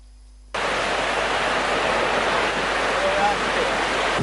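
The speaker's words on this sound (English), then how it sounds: "the Devon waterfall has intensified" Heavy rains swell the Devon waterfall in Hatton, Sri Lanka, into a loud, continuous broadband rush of falling water that starts abruptly after a brief quiet moment and holds steady.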